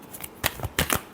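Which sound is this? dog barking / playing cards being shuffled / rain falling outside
playing cards being shuffled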